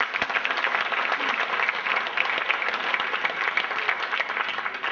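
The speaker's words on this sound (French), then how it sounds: "On peut les applaudir." Sustained applause from a large crowd, steady and fairly loud throughout, a dense wash of clapping with no pauses.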